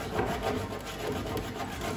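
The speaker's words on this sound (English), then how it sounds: "we can start sanding everything down." Close, continuous rubbing and scraping of a sander over a wooden board, a steady gritty texture with slight back-and-forth variation.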